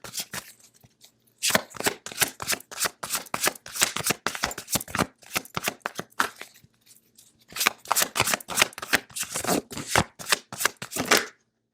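Tarot cards are shuffled by hand in two long bursts of rapid, crisp riffling and slapping, close and fairly loud, with a brief pause between bursts and no voices.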